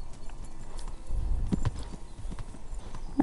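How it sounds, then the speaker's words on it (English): Hooves clip-clop steadily as a horse walks in the video game Kingdom Come Deliverance, the footfalls close and moderately loud, with a short brighter noise near the end. "I'm just gonna abandon my horse here"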